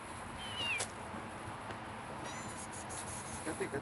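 Stray cats meow a few times at a distance, short thin calls over constant outdoor background noise, with no speech on top.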